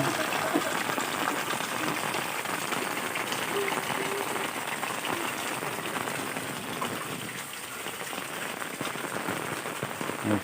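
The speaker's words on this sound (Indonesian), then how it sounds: "Alhamdulillah hujan" Steady rain falls on surfaces in a rural village, a dense, even patter with dripping and splashing that runs the whole time and swells slightly now and then.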